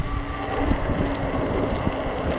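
Gusty wind on a warm day at about 30 mph, roaring and buffeting the microphone of a rider on an Ecotric 20-inch 48V fat-tire e-bike by a dam. The roar is loud and constant, with no talk over it.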